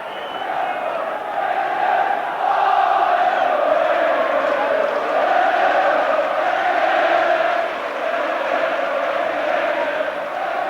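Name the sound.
football crowd cheering, Liverpool v Genoa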